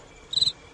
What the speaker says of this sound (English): Crickets, cue the crickets.